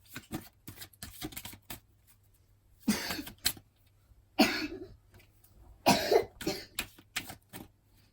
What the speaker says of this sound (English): So that's just my little cousin coughing